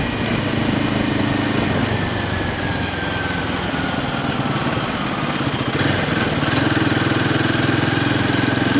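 A Royal Enfield Himalayan 450 motorcycle engine pulling hard on the road, a loud steady drone with rising pitch as it accelerates, wind rush mixed in and no speech.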